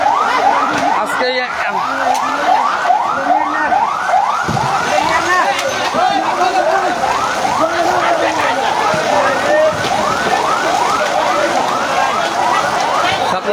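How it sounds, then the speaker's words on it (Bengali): A fire engine siren wails in fast, repeating up-and-down sweeps as the truck arrives at a blazing building fire beside the Gazipur–Tangail highway, loud and steady over crowd noise and voices. "ফায়ার সার্ভিস এসে পড়ছে, ফায়ার সার্ভিস আসছে"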